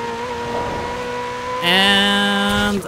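An Alfa Romeo Giulia Quadrifoglio in the racing game Forza Horizon 4 hums at steady engine pitch, then surges into a loud, bright rev that holds for about a second before cutting off.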